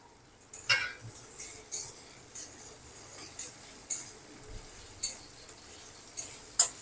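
Ginger paste fries with softened tomatoes in a pan, a faint sizzle under repeated clinks and scrapes of a spoon stirring against the metal, close by.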